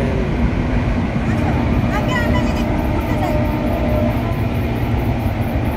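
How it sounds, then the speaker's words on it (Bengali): A train rumbles past a fish farm in a continuous loud roar of wheels and carriages, close by, with people talking over it. "ট্রেন"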